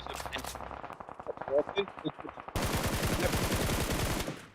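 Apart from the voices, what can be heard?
gunfire in video game PUBG Mobile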